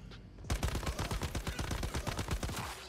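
Rapid automatic gunfire from gun-wielding zombies in the video game Once Human, starting abruptly after a brief quiet moment and continuing as a steady, loud burst of closely spaced shots.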